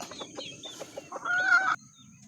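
Hens cluck nearby in a short run of soft clucks, then one drawn-out louder cackle, with no talk over them.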